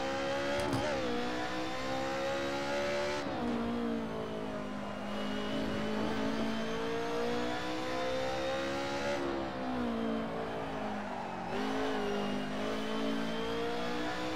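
A car engine in a driving video game revs hard under throttle, a steady loud drone that climbs in pitch and drops back at each gear change several times, with no talk over it.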